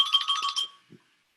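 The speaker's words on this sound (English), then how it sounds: "That was my phone." A mobile phone ringtone plays a quick, bright electronic chime pattern for under a second, close and fairly loud, then cuts off, followed by a faint knock.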